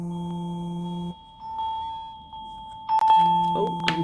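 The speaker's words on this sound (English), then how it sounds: "Oh, I'm sorry, that's my phone." A phone rings with repeated electronic tone bursts, a steady ringtone pattern that pauses briefly and then resumes, fairly loud and close indoors.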